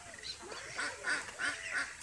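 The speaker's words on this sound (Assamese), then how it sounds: "ধুনীয়া পৰিৱেশ হাঁহ চৰি আছে এইফালে কেইটামান" A few ducks grazing on fresh grass beside a drying wetland give several faint, nasal quacks in quick succession, distant and soft against quiet open-air ambience.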